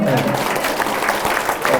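An audience in a large conference hall gives a short burst of clapping at a lawyer's talk, a brief, fairly loud patter of many hands over a murmur of voices.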